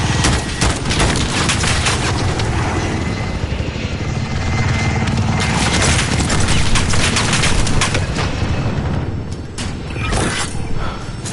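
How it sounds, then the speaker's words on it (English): Dense, loud gunfire and explosions from the online multiplayer shooter Call of Duty Modern Warfare, with a constant roar like a helicopter underneath and no break in the noise for the whole stretch. "Who's shooting at me?"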